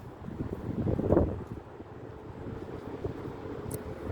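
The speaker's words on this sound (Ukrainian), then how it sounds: "Так, ждемо, поки вітер пройде." Gusty wind buffets the microphone while fishing, in a low, rumbling roar that swells briefly and then settles into a steady blustery noise.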